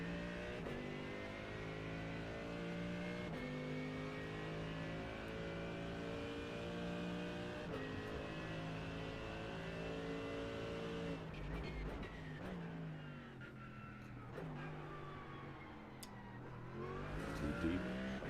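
GT3 race car lapping Sebring in the iRacing simulator, engine note rising steadily through the gears under cockpit load, then dropping on a downshift and braking with tire scrub before revving again, constant and close.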